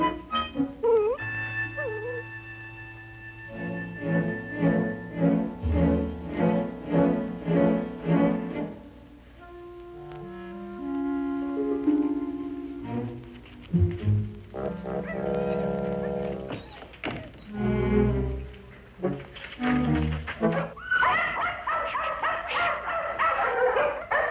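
Dogs yip, whimper and bark in a busy stretch with a music score running under them, the animal sounds coming in short bursts among the instruments.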